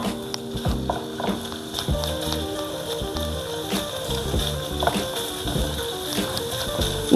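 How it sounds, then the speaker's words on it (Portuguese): Casing-free sausage meat frying in olive oil in a pan, with steady close sizzling and crackling and occasional scraping clicks as it is stirred, no voices. "E vamos fritar a linguiça."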